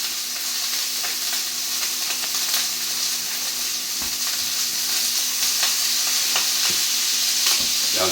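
Butter sizzling over low heat in a pan with a sirloin steak, a continuous close crackling hiss with small pops, no talking.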